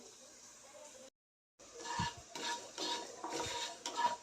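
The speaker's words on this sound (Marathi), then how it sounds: "त्यामध्ये घालते आणि मॉइश्चर जाईपर्यंत एक दोन मिनटं भाजून घ्यायचं आहे" Spices are dry-roasted in a pan, a spoon scraping and clinking against the metal in quick, busy strokes after a brief silence.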